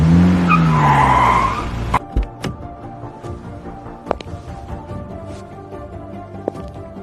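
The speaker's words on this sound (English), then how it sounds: "a car pulls up" A car pulls up and brakes hard with a loud, close tire squeal lasting about two seconds, followed by quieter thuds and knocks as it comes to a stop.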